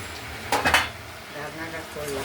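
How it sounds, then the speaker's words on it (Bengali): A lid is set on a cooking pot of Bengali mixed-vegetable curry with taro, pumpkin, ridge gourd, jackfruit seeds, pointed gourd and vegetable stems: a short cluster of close metallic clinks and rattles, then quieter kitchen background. "এবার ঢেকে দেবো। যদি জল না হলে তাহলে জল দেবো। ঢাকনাটা করলাম,"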